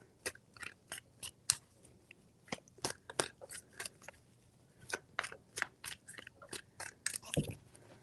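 Tarot cards being shuffled by hand, a rapid series of crisp, close riffling and snapping bursts in irregular clusters, quiet overall.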